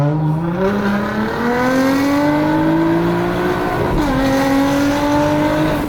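A Rocket Bunny Nissan GT-R R35 pulls hard in second gear, its engine roaring loudly and close as the pitch climbs steadily, with a brief dip and recovery near the end.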